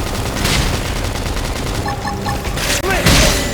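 Gunfire in a combat scene from Xenoblade Chronicles X Definitive Edition, heard as a dense, continuous barrage of rapid shots over game music and effects, with a brief dip before a louder burst near the end.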